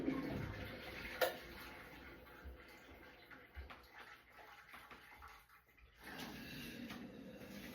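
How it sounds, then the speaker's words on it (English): Hot water runs from a tap into a used cooking pan for soaking, a faint splashing flow that stops partway, then resumes with a brief rush near the end; soft kitchen knocks in between. "Put a bit of hot water in there."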